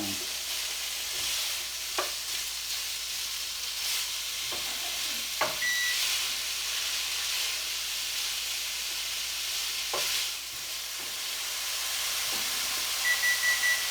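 Italian sausage sautés in a pan with a constant close sizzle and hiss, broken by a few sharp taps and clicks of stirring, and no one speaking.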